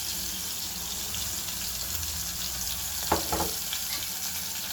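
Tomatoes fry with garlic chutney in a pan for pav bhaji, giving a steady, loud sizzle throughout with a couple of brief scraping stirs near the end.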